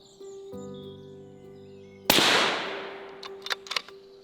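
One sharp, loud rifle shot fired at a young muntjac buck, with a short rolling echo afterwards. Birdsong and a steady tone are heard before it, and a few faint clicks come after.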